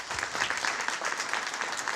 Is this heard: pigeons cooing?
no